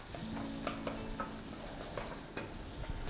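Onions fry in a pan while being stirred, a quiet, close sizzle broken by irregular scraping and clicking strokes of the spoon, with no voices.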